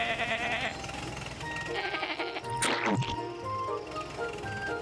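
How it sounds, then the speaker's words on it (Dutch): A cartoon sheep bleats in a children's animated story, a wavering bleat heard up close along with a sharp thwack partway through. "blaat meneer Wolly het schaap"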